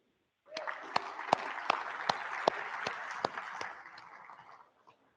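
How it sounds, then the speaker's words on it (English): Audience applause at the third day of an annual event rises quickly into a steady roar of many hands, with a few sharp nearby claps on top, then tapers off and fades out. "yourselves one round of applause for making it to the third day."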